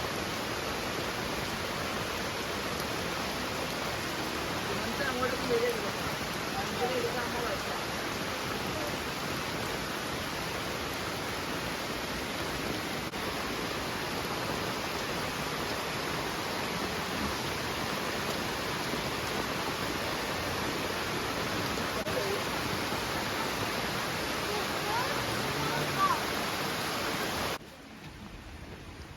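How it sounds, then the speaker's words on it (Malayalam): Heavy rain falling steadily over forest and the Periyar river at Thattekkad Bird Sanctuary, a loud, dense, unbroken hiss that fills the whole stretch and eases slightly at the very end, with one brief spoken word near the start. "നല്ല കിടുക്കാച്ചി മഴയാണ്"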